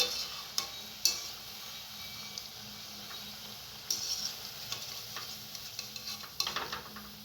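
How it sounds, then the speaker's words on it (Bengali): Palm fruit fritters (taler bora) frying in oil, a soft steady sizzle under a few sharp clinks and scraping stirs of a utensil against the pan, fairly quiet and close, with no talking. "এরকম লাল লাল করে আমি সবগুলো বড়া ভেজে নেব।"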